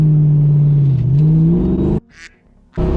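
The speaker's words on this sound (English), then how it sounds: "Get going, slowly release the clutch, get going, and then when you get up to speed, give it gas first." A Ford Mustang Foxbody convertible pulls away after the clutch is released, a loud close engine drone rising and dipping, then cutting off abruptly before a brief lull and its return.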